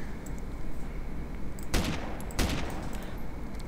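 Two sharp, loud rifle shots from an FN FAL in DayZ ring out close, evenly spaced under a second apart. Each crack carries a short echo over steady background noise.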